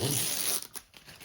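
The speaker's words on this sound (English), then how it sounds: "gently take the tape off" Tape tears away from watercolour paper in one loud, close ripping pull, then a few softer crinkles as it comes free.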